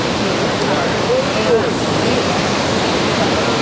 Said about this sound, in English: So this is Mae Ya Waterfall, guys, right there.